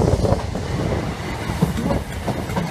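A Class 321 electric multiple unit passes close by, a steady rumbling rush of wheels on rail with rhythmic clickety-clack from the carriages, continuous for the whole stretch with some wind buffeting.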